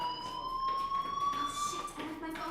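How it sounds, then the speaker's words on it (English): Fire alarm in the Life is Strange video game, a steady high electronic tone with faint overtones ringing continuously at moderate distance, quiet background sounds beneath. "do you hear that fire alarm?"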